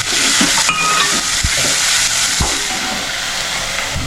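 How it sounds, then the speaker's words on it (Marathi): Chopped onion fries in a pan for a village-style crab masala, a steady loud sizzle and hiss with a couple of sharp stirring clinks. "आणि आता कांदा घालून घेतला आपण."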